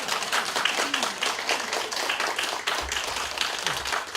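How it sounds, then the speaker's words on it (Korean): Lecture audience in a large hall clapping together on request, a steady, dense round of applause that carries on throughout, loud and close, with a faint voice underneath. "박수 한번 쳐보세요"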